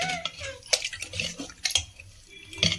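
Water poured into ragi (finger millet) dosa batter in a bowl, with clinks of a utensil against the vessel and short splashy pours and stirs close by, without any talk.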